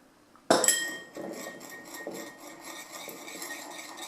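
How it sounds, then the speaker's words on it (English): Wasabi powder is stirred into soy sauce in a small dish: one sharp clink of a utensil against the dish, then a steady run of light clinking and scraping as it mixes. "Mix the wasabi into the soy sauce."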